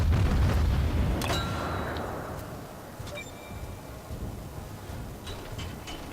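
USS Phoenix, an American tier 4 ship in World of Warships, firing its guns: a few sharp, ringing reports with metallic clangs, followed by a fading low rumble and some fainter distant shots.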